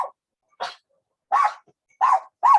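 A dog barks four times in short, loud yips close by during a yoga class in a dog-friendly studio, with silent gaps between the barks and no other sound.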